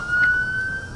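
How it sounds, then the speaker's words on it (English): A wailing emergency vehicle siren on a San Francisco street, a steady sustained tone held across the moment, moderately loud and somewhat distant, with low traffic rumble beneath and no talking. "It sounds like there's a siren going down out here in San Francisco."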